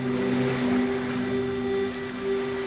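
Sea waves wash onto a beach in a steady, fairly soft rush of surf, heard alone without any talking.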